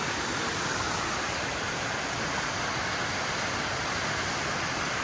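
Ice-cold mountain stream in Transfagarasan, Romania, rushing in a steady, dense wash of water noise, close by and continuous with no pauses.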